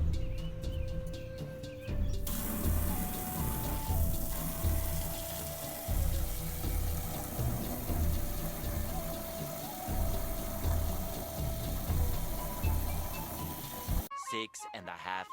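A tap runs steadily into a plastic bin, a continuous rushing pour of water filling it up, fairly close and loud, with a few brief tonal sounds over it before it cuts off near the end.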